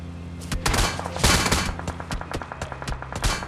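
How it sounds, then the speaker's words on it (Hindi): Heavy gunfire in PUBG, with bursts of shots and rapid volleys cracking loudly and close, overlapping in dense clusters across the whole stretch, with no talk over it. "पीछे से मेरे ऊपर काफ़ी तगड़ा फायर होता है"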